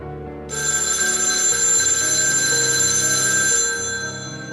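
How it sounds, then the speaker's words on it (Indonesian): A railway station telephone rings with a steady electronic trill for about three seconds, loud and close, then stops. "mendengar dering pesawat voice dari PPK Stasiun Kota Baru"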